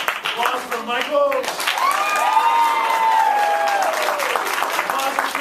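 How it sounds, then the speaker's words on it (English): An improv comedy show audience claps and cheers, with sustained applause under a few whoops and voices rising over the crowd. "Applause for Michael."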